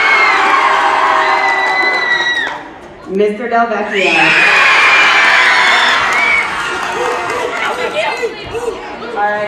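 A school crowd of children cheers and shouts to pick a teacher, loud excited whoops and screams rising and falling, with a voice over a speaker cutting in briefly.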